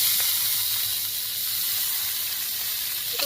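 Chopped tomatoes frying in a pan with bay leaf, whole garam masala and ginger-green chilli paste give a steady, bright hiss and sizzle that runs unbroken and fairly loud, with faint clinks near the end.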